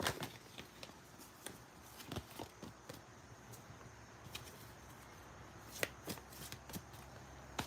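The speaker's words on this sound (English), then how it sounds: "I'm going to flip the card over to end this." A homemade tarot deck is handled and flipped, giving soft, quiet papery shuffles and brief card snaps scattered irregularly over faint room noise, with no speech.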